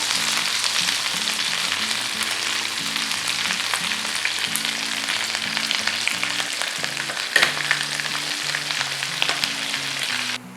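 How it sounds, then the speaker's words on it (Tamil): Bread and potato snack pieces deep-frying in hot oil until brown and crispy, a steady dense sizzle and crackle close by, with music playing throughout and no talk. "நல்லா சூப்பராக ப்ரௌனாக கிறிஸ்பியாக ஃப்ரை ஆகிடுச்சு"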